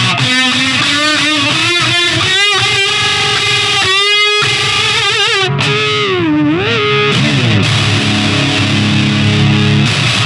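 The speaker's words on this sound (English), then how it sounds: "So the Boss DS-1 Distortion is a classic distortion pedal" An electric guitar played through a Boss DS-1 distortion pedal, loud and close, with gritty saturated chords and sustained notes, followed by bending, sliding lead lines that ring out alone with no talking.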